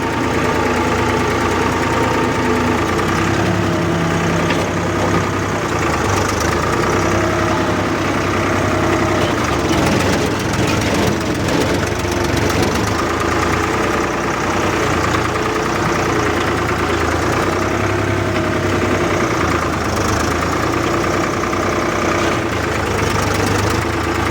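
A tractor pulling a five-tine plough through a village farm field, its engine droning steadily and loudly with a rough, knocking mid-low rumble throughout.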